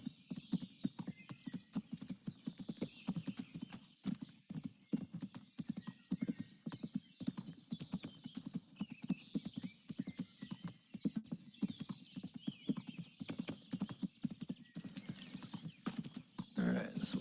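Horse hooves clip-clop steadily throughout while the horse carries its rider in the medieval video game Kingdom Come: Deliverance, joined by a brief neigh near the end, with a low game soundtrack underneath.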